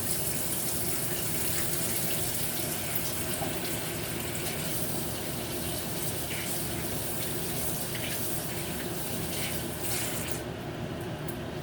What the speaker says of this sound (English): make sure you wash your hands properly